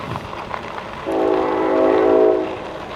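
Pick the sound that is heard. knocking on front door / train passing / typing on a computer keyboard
train passing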